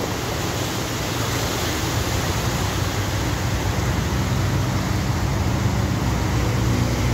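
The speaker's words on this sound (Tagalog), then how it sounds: "Kararating lang na malakas na tubig" Strong rushing floodwater current in the Davao Region, a loud continuous roar of churning water with no pauses or talk.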